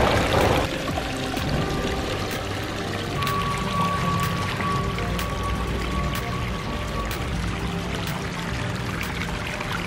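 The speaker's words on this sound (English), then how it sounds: "We want you to do the ceremonious plugging the waterfalls in." A freshly built backyard landscaping waterfall, fed by Aquasurge 2000 pumps, pours steadily over rocks in a continuous near splashing rush, with a brief louder splash at the start and light trickles throughout.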